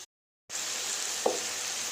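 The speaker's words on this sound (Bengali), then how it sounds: "গাজর, বিনস, ক্যাপসিকাম এগুলো ভাজা ভাজা হয়ে গেছে।" Carrots, beans and capsicum frying in a pan, a steady close sizzle with a brief stir or clink midway; the sound cuts in after a short silence at the start.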